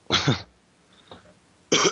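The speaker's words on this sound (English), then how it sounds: "let me clear my throat on that one" A short, forceful throat clearing, then a faint pause and a second harsh clearing burst, close and alone without talk.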